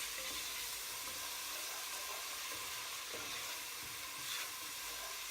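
Spices and ingredients for kitchari being stirred in a hot pot, a steady broadband sizzle and hiss with soft scraping strokes of a spoon, fairly quiet and continuous with no talking.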